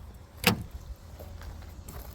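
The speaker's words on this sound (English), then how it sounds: "Go back here and open up this door" Door of a 2000 Jeep Wrangler Sport opening with one sharp latch click and clunk, followed by faint rattles against quiet outdoor background.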